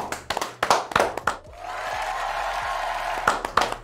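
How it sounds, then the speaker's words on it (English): A small group in the VMP Performance studio claps, scattered close-up handclaps in short bursts at the start and again near the end, with a steady background noise in between. "Everybody clap for Joe."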